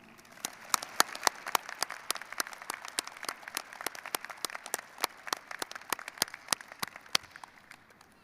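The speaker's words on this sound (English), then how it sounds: "Candidates, how about a round of applause for your great support team?" Applause at a business college convocation ceremony for graduates' families and friends, a sparse crowd clapping steadily for several seconds, moderately distant and fairly quiet, with a few sharp individual claps standing out.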